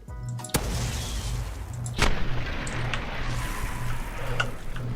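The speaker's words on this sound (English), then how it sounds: "Yes, this is actual Tesla cannon," Tesla cannon fired in the Fallout video game: two sharp electric discharges about a second and a half apart, over a constant low droning hum.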